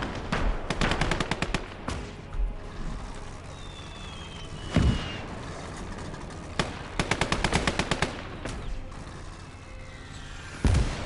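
Machine gun fire in the World War II game Call to Arms: Gates of Hell, where rapid bursts of automatic fire rattle in several clusters, mixed with single heavy shots and booms against a low battlefield rumble.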